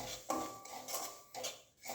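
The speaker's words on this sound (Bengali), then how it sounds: "এবার চালের সুজিটা একটু হালকা গরম খোলাতে ভেজে নিচ্ছি" Rice semolina dry-roasting in a warm pan, with a soft continuous scraping and rasping of a utensil against the pan and a few sharper clinks, close and fairly quiet.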